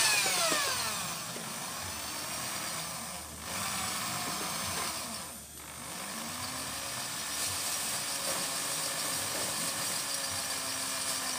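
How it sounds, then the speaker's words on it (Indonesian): A power drill bores a hole for a mount on a simple homemade cotton candy machine, its steady motor whine running throughout and briefly dipping twice, fairly quiet and with no voices. "Kita bor."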